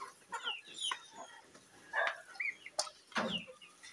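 Pet chickens cluck and chirp around a feeder of malunggay and corn bran mash, several short near calls scattered across a few seconds with rustling between them.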